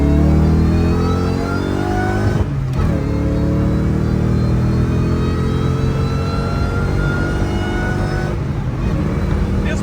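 A supercharged Saleen running on E85 revs hard on a test run, its engine pitch climbing steeply through the gears with two short dips between pulls, loud and close throughout.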